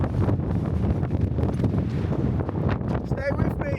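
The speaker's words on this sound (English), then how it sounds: "It's been blustery, then it stops dead silent, then it's blustery again" Blustery wind gusts across the microphone on a Scafell Pike hike, a loud, steady roar that swells and dips throughout, with faint voices in the background.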